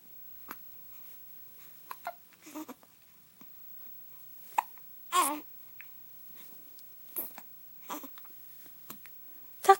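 A young child hiccups repeatedly at home, short sharp catches spaced irregularly and fairly close to the mic, with soft babbling between them.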